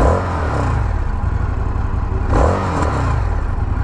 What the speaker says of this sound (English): We have our start button right here. So you can hear it, it's kind of got a little bit of a rumble.